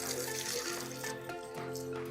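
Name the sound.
water running off ceramic coated Hummer wheels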